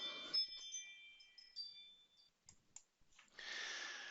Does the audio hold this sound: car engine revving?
no